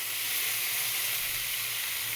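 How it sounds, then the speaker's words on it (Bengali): Hot turmeric water hitting potatoes frying in oil produces a steady, loud, close sizzling hiss that holds evenly from start to finish with no talking. "আলুগুলো এই পর্যায়ে ভাজা হলে এবার দিয়ে দেবে গরম জল, হলুদ দেওয়া গরম জল।"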